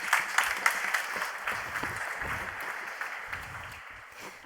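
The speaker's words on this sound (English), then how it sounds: "Round of applause for Anna." Applause from a conference audience at a Copernicus general assembly in a hall welcomes the next presenter. Moderate, steady clapping from many people gradually thins out and tapers toward the end.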